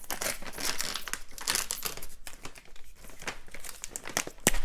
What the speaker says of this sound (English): So 2 scoops of this, tear this open.